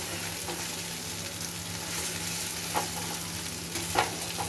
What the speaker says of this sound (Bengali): একটু ভাজা হয়ে এসছে এটা।